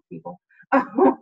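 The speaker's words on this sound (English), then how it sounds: "sorry about the barking dogs" Dogs barking in the background of a school board committee meeting, a couple of short bursts mixed with a person speaking over them.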